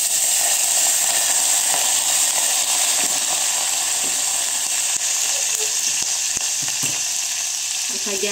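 Mustard seeds, cumin and curry leaves sizzle loudly in hot tadka oil for a chutney, a steady, dense crackling hiss that runs unbroken throughout with no voices over it.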